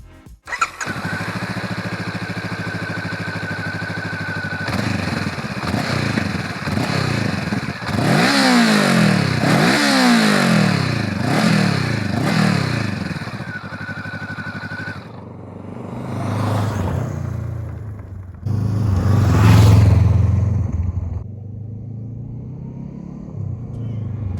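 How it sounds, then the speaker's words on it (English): A 2023 Honda CB500X with a Euro 5 compliant engine fires up close by and settles into a steady idle. Its exhaust note then rises and falls through several hard revs, with gaps of quieter idling between them. "The engine is Euro 5 compliant and has a pretty decent exhaust note."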